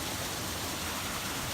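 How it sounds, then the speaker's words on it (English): Steady, broadband rush of a small natural waterfall in Michigan in winter, heard continuously and fairly close with no voices. "I want to give you all one more view of this waterfall."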